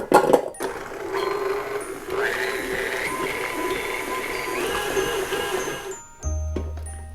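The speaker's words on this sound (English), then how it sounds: "All of that is softened in my KitchenAid bowl, and I'm going to begin to blend them together." KitchenAid stand mixer beating softened cream cheese and a stick of butter for a New York cheesecake, a steady whirring motor hum with faint tinkling that runs about six seconds, then cuts off followed by a brief clunk.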